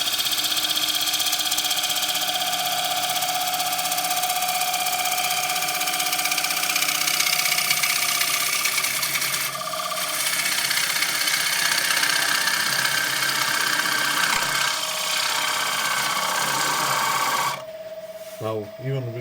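Wood lathe spinning while a small gouge cuts into a bowl, a steady whirring hum with a bright rasping cut running throughout, close and loud, and someone speaking over it before the machine cuts out near the end.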